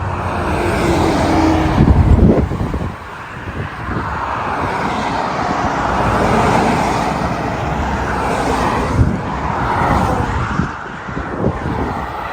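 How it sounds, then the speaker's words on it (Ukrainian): Busy traffic roars past on the Kyiv–Zhytomyr highway, a continuous loud wash of passing vehicles with several heavier swells as trucks go by, heard without talk. "Дуже живий трафік."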